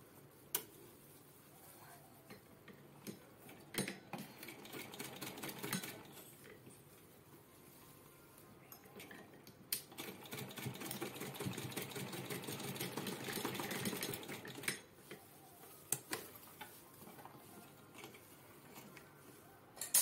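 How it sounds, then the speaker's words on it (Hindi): A sewing machine stitches a small cloth pouch made from old fabric in two main runs of rattling, ticking mechanical noise, fairly quiet, with clicks and pauses between. "अब मैं सिलाई लगा दूंगी"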